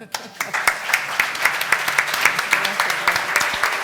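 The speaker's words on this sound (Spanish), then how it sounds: "le damos un aplauso a las invitadas" Close, lively applause for invited guests at a women's event, with a rhythmic pulse of claps and some voices mixed in throughout.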